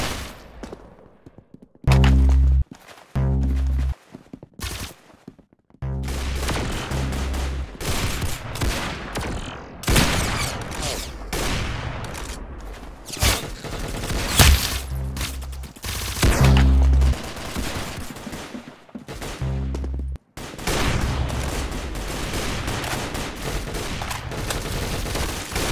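Gunfire in the video game Arsenal: bursts of rapid automatic shots and heavy single booms, loud and close, coming in clusters with short gaps, a game soundtrack running underneath throughout.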